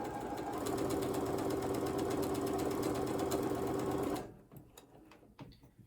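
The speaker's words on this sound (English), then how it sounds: "And again, I'm still sewing on that drawn line." A sewing machine chain-pieces fabric along a drawn diagonal line, running in a steady, fast, close whir for about four seconds. It then stops, leaving a few light clicks and handling sounds.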